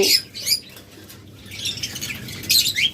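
Pet lovebirds, budgerigars and cockatiels squawk and chirp in shrill bursts, near and fairly loud, with a brief lull in the middle before the calls pick up again.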